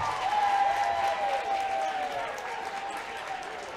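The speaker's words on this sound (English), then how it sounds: "Crowd trying to make some noise." High school basketball crowd roaring and clapping during free throws in a gym, loud sustained cheering with a whistle-like tone, a commentator talking over it.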